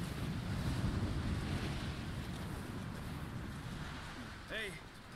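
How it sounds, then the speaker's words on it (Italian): Strong wind roaring steadily in a video game, a broad low rush like gusting air over open water, with a brief voice sounding near the end. "C'è un vento fortissimo."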